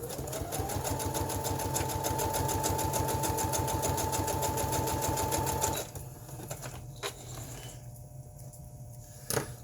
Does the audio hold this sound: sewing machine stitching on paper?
yes